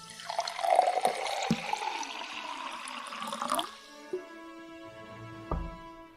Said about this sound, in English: You want to hear the sound of water pouring down?